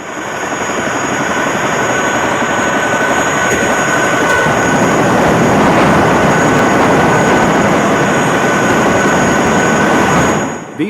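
A helicopter roars loudly nearby with a steady rotor and engine wash that fades away at the end as it flies off empty after dropping rice, Kon Tum, Vietnam, 1972.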